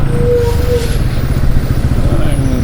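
A vehicle passes on a rough road during a road trip from Bengaluru to Kerala. Its close, steady engine drone stays loud and unbroken for the whole moment.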